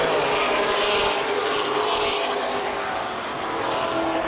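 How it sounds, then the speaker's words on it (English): Several NAPA late model race cars roar together on a restart at Baer Field Speedway, a dense, loud, broadband engine wash that dips slightly and swells again, with no talk audible. "Complete restart here for the Baer Speedway NAPA late model division."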